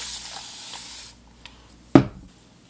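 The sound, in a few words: spray bottle misting water onto hair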